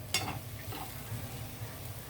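Raw banana and capsicum stir fry is mixed in a hot pan, with a sharp clink of the spoon at the start, then soft stirring scrapes over a gentle, steady sizzle.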